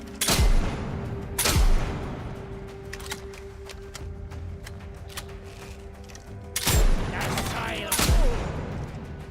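Shotgun blasts in the video game Atomfall, fought in the woods: four loud, sharp booms come in two pairs several seconds apart, with quieter clatter and a faint voice in between.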